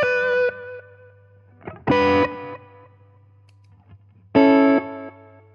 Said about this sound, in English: And tape. Tape echo.